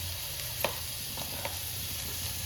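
Meat dropped into a hot pan for srondeng sizzles steadily as it fries, a constant close crackling hiss with a couple of small pops.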